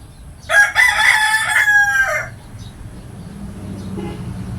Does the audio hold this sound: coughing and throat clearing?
no